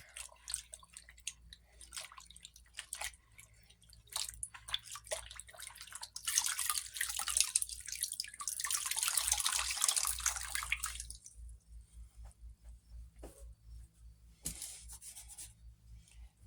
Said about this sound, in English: And then I'll just rinse my towel into my little bowl of water here.